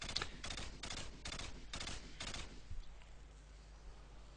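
Rapid bursts of video game gunfire from a trickshot session, about five loud, evenly spaced volleys in quick succession before the shooting stops and a low hum is left.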